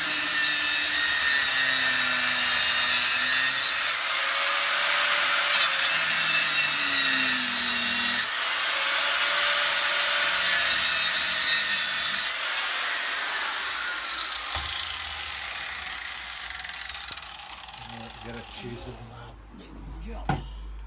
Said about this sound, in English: But a problem with one of the rose joints meant the angle grinder had to come out.